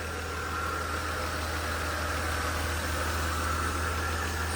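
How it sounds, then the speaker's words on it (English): A Mercedes 300 SL engine idles smoothly after earlier ticking, a steady, even mechanical hum with a low drone and no rise or fall, running alone without talk. "Engine sounds really, really smooth"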